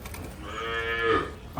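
A Kankrej cow on a farm gives one long, loud, drawn-out moo that rises and swells before tapering off, close by with no talking.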